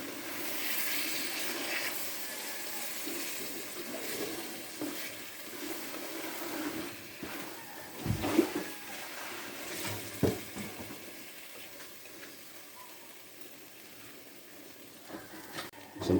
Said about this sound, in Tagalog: Pink belly at tinalagyan tubig, pansabaw.